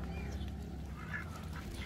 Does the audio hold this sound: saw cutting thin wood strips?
no